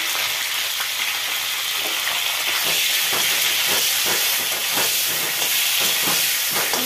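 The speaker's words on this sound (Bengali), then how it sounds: "সেই ফুলকপিটা ভেজে নিচ্ছি।" A loud, hissing sizzle of cauliflower with salt and turmeric frying in hot oil fills the clip, steady throughout with occasional crackling bursts and soft stirring.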